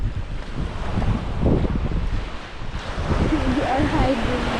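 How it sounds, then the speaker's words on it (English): Strong wind buffets the microphone in a steady roar at Bamboo Bay beach, Koh Lanta, with surf-like rumble underneath and faint voices toward the end. "so windy."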